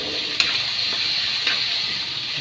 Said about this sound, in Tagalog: Susunod naman natin yung laman niya. Igigisa rin natin.